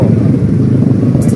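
A BSA motorcycle engine idles or runs nearby at a street gathering of riders, producing a loud, steady, low-pitched throbbing rumble throughout the short moment.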